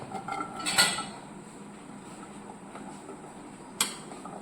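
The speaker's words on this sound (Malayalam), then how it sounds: "ഞാൻ ഒരു പാൻ അടുപ്പത്ത് വെച്ചിട്ടുണ്ട്." A metal pan clanks onto a kitchen stove, a sharp clatter near the start followed by a quieter scrape and a second brief clink near the end.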